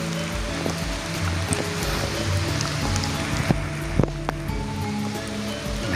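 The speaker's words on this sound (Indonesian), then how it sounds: "Ini gerimis ya kawan ya." Light drizzle falls over a remote Javanese village, a steady soft patter with a low outdoor hum and a few sharper drips and knocks nearby.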